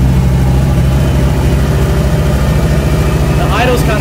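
Turbocharged Audi Coupe GT, converted to NG EFI, idling steadily just after startup with a slightly high idle, a close, continuous low rumble throughout and a brief rising whine near the end.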